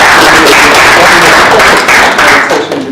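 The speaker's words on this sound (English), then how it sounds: "I think he needs a round of applause just for that." Audience applause fills a speaker event, loud and continuous from start to end, a dense wash of many hands clapping that thins slightly near the finish.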